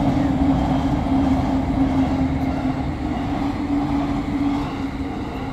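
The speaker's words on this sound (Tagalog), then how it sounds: "But ayan, may train ulit oh." A train runs past a spot in Japan as a steady, loud rumble with a sustained low hum, holding at an even level for several seconds with no talk over it.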